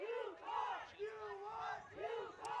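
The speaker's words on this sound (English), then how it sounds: "There's lots of yells for Yukon right now with them in possession" Fans at a Canada Games men's soccer match between Northwest Territories and Yukon yell and chant for Yukon in rising, wavering cries, a small crowd whose voices swell and fall in repeated bursts.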